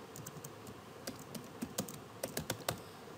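Fingers type on a computer keyboard while entering a caption in a form, a run of close, irregular key clicks that grows denser and louder toward the end, with no speech.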